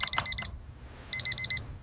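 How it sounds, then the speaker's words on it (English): An alarm clock goes off on a rainy Tuesday morning with two quick bursts of high electronic beeping, a short gap, then another rapid beeping burst, fairly close and moderately loud, with no voices. "My alarm went off 2 minutes before it was supposed to."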